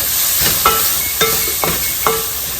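Tomatoes cook in a pan with a steady high sizzle, broken by three or four soft knocks or stirring taps at regular intervals, with no talking.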